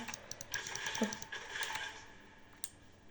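Rapid keyboard typing and mouse clicks from someone playing a computer game, a quick uneven run of close, soft clicks and taps, fairly quiet, with no talking over them.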